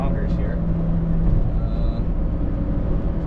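A Subaru Sambar TT2 kei truck cruises at about 95 km/h, its steady engine drone and road rumble continuous beneath someone talking from the cab.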